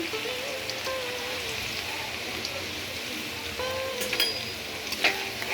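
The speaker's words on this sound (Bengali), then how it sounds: "পেঁয়াজগুলো ভেজে নেব" Chopped onions fry in a pan with a steady, close, rain-like sizzle that runs throughout, with faint background sounds mixed in.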